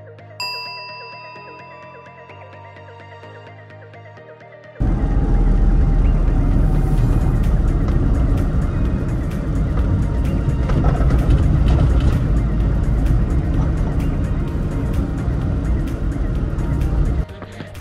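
A car engine restarts after stalling on a drive, filling the scene with a loud, steady, rumbling roar that follows a quieter tonal opening and continues to the end.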